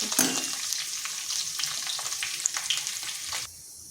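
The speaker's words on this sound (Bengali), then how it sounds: "ওই তেলের মধ্যে দিয়ে দিচ্ছি গোটা জিরা একটা শুকনো লঙ্কা দিয়ে দিচ্ছি তেজপাতা" Whole cumin, a dried chilli and a bay leaf crackle in hot oil, a bright close sizzle with quick popping spits that fades abruptly near the end.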